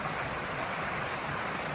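A large waterfall on the Blue Ridge Parkway in winter pours in a steady, dense roar, close and constant with no voices.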